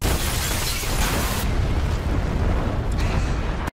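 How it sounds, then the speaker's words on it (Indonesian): A loud, sustained explosive roar in a film, with heavy rumbling low end, holding steady for several seconds before cutting off abruptly. "Setelah ledakan keras"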